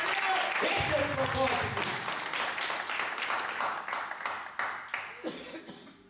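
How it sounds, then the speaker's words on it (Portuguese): Applause from a church congregation fills the space, strong at first and then thinning, with a cough in the crowd and someone speaking over the tail end. "Pode aplaudir o Senhor se você quiser, meu irmão."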